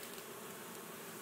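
Honey bees buzzing around a hive being removed from a church wall in Jacksonville while smoked, a continuous faint droning hum with no voices.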